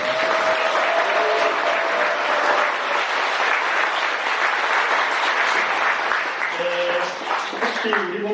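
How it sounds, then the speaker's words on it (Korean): A Catholic congregation at Easter Vigil Mass in Jungmun Cathedral, Jeju, bursts into continuous, full applause lasting throughout, dense and even, with a faint voice emerging near the end. "우리 평창에 있는 분들에게 우리 감사의 박수를 드립니다."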